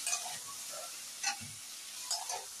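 Boiled dheki fern greens fry in a pan with eggplant that was fried earlier, making a faint, soft sizzle with a few light scraping stirs and no talking.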